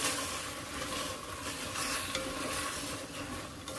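Seaweed and mushrooms stir-fried in a pot for a perilla seed seaweed-mushroom soup, a steady close sizzle with scraping stir noises running throughout, no voices.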